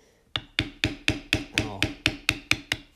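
A thumbprint leather-tooling tool struck repeatedly into belt leather, about ten sharp, evenly spaced taps in a steady rhythm, close and loud with nothing else heard.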